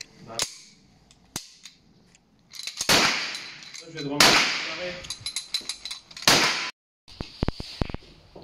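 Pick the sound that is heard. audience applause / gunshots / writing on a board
gunshots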